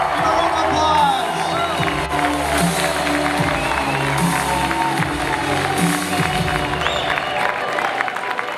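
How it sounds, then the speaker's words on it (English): Audience applause and cheering for Kate Beckinsale, a sustained crowd roar of clapping and whoops, loud and continuous, with a voice over it. "Give a round of applause."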